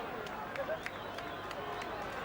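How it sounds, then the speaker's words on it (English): A rugby crowd at Orrell v Saracens roars with a broad, sustained cheer. Scattered claps cut through it, and a commentator speaks over it. "Cheer goes up from the crowd."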